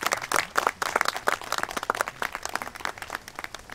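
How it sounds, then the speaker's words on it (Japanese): Audience applause fills a 25th-anniversary ceremony at Lockhart Castle: dense, continuous clapping from many hands, steady and fairly close throughout with no voices over it. "改めまして大きな拍手をお送りくださいませ。"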